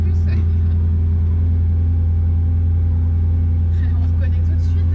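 Loud, steady idle of a Mercedes CLK 500 engine fitted with a non-original exhaust, a deep constant rumble held throughout with no clear revving.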